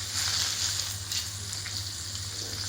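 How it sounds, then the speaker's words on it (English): Meat searing in a hot frying pan gives a steady, close sizzle with a continuous hiss and no talking. "Getting a nice sear on them."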